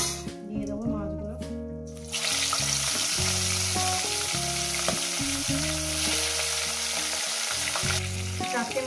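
Pieces of rohu fish drop into hot oil and fry with a loud, continuous close sizzle after a quieter start, and a voice speaks briefly under the sound.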